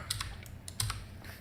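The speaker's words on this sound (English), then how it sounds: "Let me just quickly type it." Quick bursts of typing on a computer keyboard, a handful of soft clustered key clicks over about a second and a half, close and fairly quiet with a low background hum.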